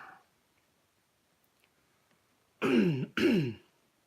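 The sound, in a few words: throat clearing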